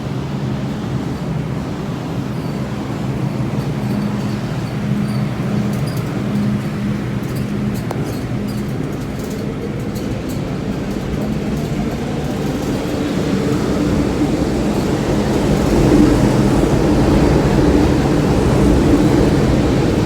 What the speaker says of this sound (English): Oh nice, full ad train.